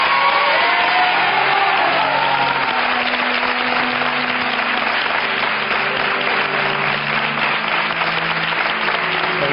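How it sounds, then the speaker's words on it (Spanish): A large audience applauds loudly and continuously in a studio setting, a dense unbroken roar of clapping with some cheering and faint voices mixed in. "Un aplauso, hombre, por favor."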